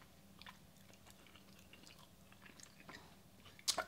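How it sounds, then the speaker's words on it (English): Quiet, close chewing of a keto snickerdoodle cookie, soft rhythmic mastication with a sharper crunch near the end, no talking. "I'm gonna finish chewing this."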